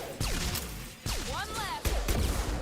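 Shotgun blasts from Mass Effect 2 combat, three heavy booming shots spaced about a second apart, each with a sharp attack and ringing tail, mixed with synthetic game effects.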